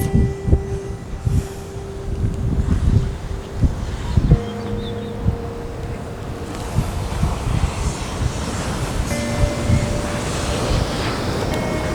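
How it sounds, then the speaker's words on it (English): Steady outdoor wind rumble on a Texas summer day blows across the microphone for the whole stretch, with gusty low-frequency buffeting and faint background tones; no one speaks. "Kind of windy out here."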